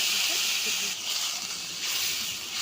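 Water poured into a pan of frying snakehead fish curry sets off a strong, continuous sizzling hiss that stays loud and close throughout, swelling slightly in bursts.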